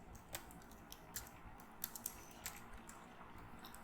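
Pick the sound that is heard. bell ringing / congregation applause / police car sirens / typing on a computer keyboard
typing on a computer keyboard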